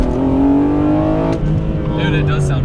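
A BMW E46 M3's engine revs hard and close, its loud rising tone sweeping up and then falling back, followed by a brief lighter blip.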